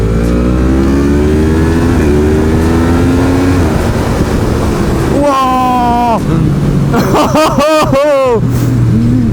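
A 2018 Yamaha MT-10 motorcycle accelerates hard, its engine climbing in pitch through several gears with quick dips at each shift, then revving sharply in bursts near the end. It is loud and close, and a rider's brief exclamation is heard.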